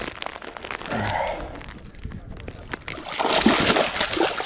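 A landed pike thrashing and splashing water at the bank, with sloshing bursts early and a louder splashing flurry near the end, while people talk over it.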